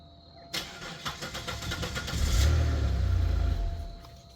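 A Buick engine starting with the key: a few cranking pulses, then the engine catches and revs up loudly before settling back down, close and with no speech.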